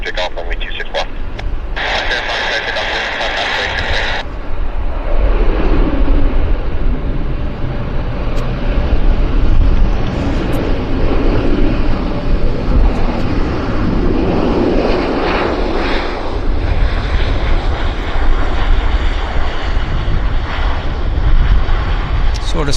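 Aircraft taking off from a runway at Vancouver Airport, a loud sustained engine roar swelling and shifting, with radio chatter and voices over it early on.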